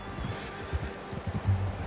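Horse in the Red Dead Redemption 2 video game, short soft snorting and hoof sounds, faint and brief, with quiet ambient background.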